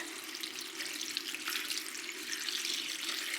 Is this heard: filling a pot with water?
yes